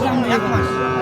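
A single loud, close moo from a Sahiwal heifer at a cattle market, low and droning, filling the whole short moment.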